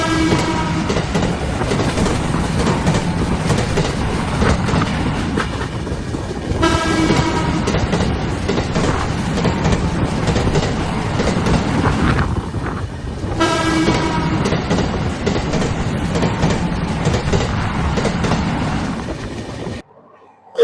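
The Sikkim Mahananda Express passenger train rumbles along the tracks with rhythmic clatter, close and loud, a horn sounding briefly, continuous for about twenty seconds.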